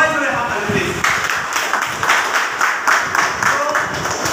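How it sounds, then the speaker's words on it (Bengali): An audience at a training program event applauds loudly and continuously, with dense overlapping claps filling the room. "সবার জন্য সবাই জোরে হাততালি প্লিজ"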